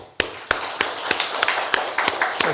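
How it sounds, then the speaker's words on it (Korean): A church congregation claps during a Sunday service, heard as a series of sharp, distinct claps at an irregular rhythm, fairly close and separated by short gaps. "우리 세상의 모든 어머니와 아버지에게 박수하겠습니다"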